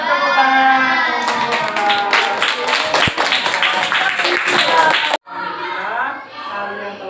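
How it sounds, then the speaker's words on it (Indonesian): Classroom of students clapping hands together in a loud burst of rapid applause, with children's voices talking and calling over it before the sound cuts off and voices continue. "Beri tepuk tangan."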